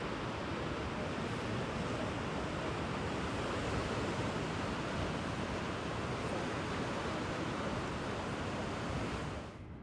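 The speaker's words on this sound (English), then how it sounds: "I love the sound of the sea." Sea waves wash continuously onto the shore at Latchi, Cyprus, a steady broadband hiss and rumble close to the listener that holds evenly before dropping off abruptly at the end, with no voices.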